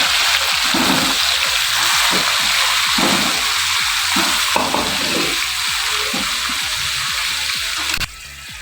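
Onion, chicken and potato pulao masala fries in a pot, a loud continuous sizzle broken by a regular rhythm of scraping stirring strokes, ending with a sudden drop as the stirring stops.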